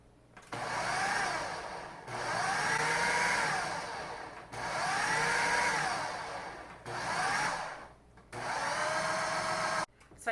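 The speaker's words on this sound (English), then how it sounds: "I'm going to pulse it until it all comes together." Food processor pulsing cheese puff dough with four extra-large eggs, four motor bursts of a few seconds each with short silent gaps between them, close and loud.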